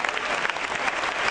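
Church congregation applauding during a worship service, dense steady clapping from many hands filling the room, moderately loud and continuous without pause.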